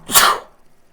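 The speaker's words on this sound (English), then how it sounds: "I sneeze." A single sharp human sneeze close to the microphone, a quick loud burst that fades within half a second into near silence.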